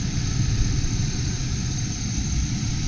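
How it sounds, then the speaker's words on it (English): A 1997 GMC Sonoma extended cab 4x4 engine idles steadily and smoothly, a continuous low rumble with no misses, close and alone. "Motor's running smooth, there's no roughness."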